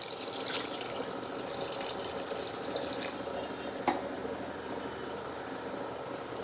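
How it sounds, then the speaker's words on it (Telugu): Steady water pouring and splashing into a pot of cooking gongura chicken, continuous and fairly soft, with a faint background hum and one brief clink. "గోంగూర వేసిన తర్వాత చికెన్లో వాటర్ వేసుకోవాలి"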